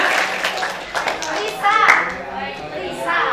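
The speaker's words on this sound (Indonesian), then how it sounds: "Tepuk tangan ya." A small group claps briefly at a school Ramadan Islamic program, the applause mixing with children's voices and chatter nearby.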